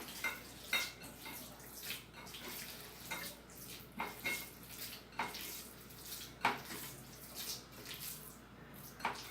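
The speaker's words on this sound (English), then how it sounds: "And then stir it." Dumpling meat filling stirred in a bowl, soft wet squelching and scraping strokes repeating at an irregular rhythm, quiet and close.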